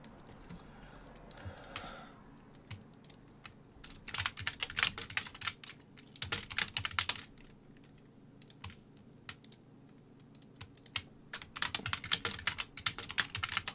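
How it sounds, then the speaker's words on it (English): Computer keyboard typing while labeling buses in a music mixing session, close, quiet clusters of rapid key clicks in irregular bursts separated by short pauses. "Sorry for the typing"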